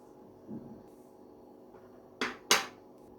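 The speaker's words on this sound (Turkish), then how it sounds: "5 litrelik tencereye bardaklarımızı alalım." Glasses set down into a 5-litre pot while baking two-colour cakes in cups: two sharp, close clinks of glass against metal near the end, after a soft earlier knock, over quiet kitchen background.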